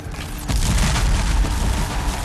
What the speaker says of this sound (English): Northern artillery made them pay dearly.